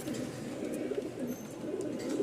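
Silver Kaldam giribaz pigeons cooing softly and continuously nearby, a low murmuring roll that barely rises or falls, with no voices.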